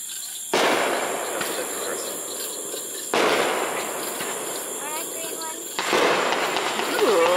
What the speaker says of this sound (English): Best fireworks of the year.